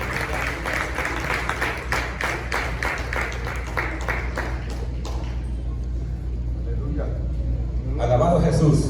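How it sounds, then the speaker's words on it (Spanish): Congregation clapping hard during a Spanish-language church service, a rhythmic burst of strong claps for about five seconds that then stops, leaving a low steady hum, with a voice and rising sound near the end. "denle palmas fuertes al Señor."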